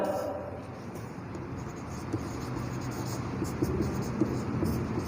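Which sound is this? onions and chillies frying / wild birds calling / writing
writing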